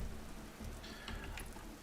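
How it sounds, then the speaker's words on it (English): Rain from the Minecraft ViesCraft mod falls as a soft, steady patter, faint and brief, with no voices. "We'll just shut that damn rain right off."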